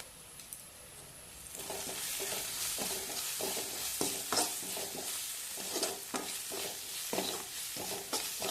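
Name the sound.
stirring cabbage with turmeric and salt in a pan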